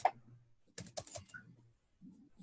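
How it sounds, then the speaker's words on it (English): A few soft clicks and taps on a computer keyboard in a quiet room, including a key press for enter, brief and faint with gaps of silence between. "just press enter on the keyboard"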